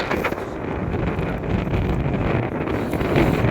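Strong wind gusting at a lake in Kazakhstan, a loud, continuous buffeting roar across the microphone with swelling gusts and no clear talk.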